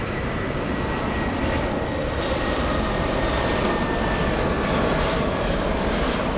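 An Emirates airliner at Frankfurt airport rumbles with a loud, steady jet-engine roar, broad and unbroken throughout, heard from the spotting area with no voices over it.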